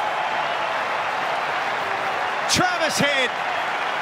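A cricket crowd at Adelaide Oval applauds a batsman's drive through cover in a Test match, a steady wash of clapping under a commentator's voice.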